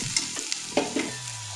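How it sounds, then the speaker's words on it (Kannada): Tomatoes frying in oil with curry leaves in a pan, a steady soft sizzle broken by a few short stirring scrapes and clicks, close and moderately loud, with no voices. "ಚೆಂದಾಗಿ ಇದು ಟೊಮಾಟೊನೂ ಫ್ರೈ ಆಗುತ್ತೆ."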